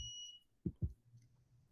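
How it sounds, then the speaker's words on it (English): During an online meeting, an electronic alarm gives one brief high two-tone chirp at the start, then two dull knocks follow in a quiet room. "I apologize for the alarms going off"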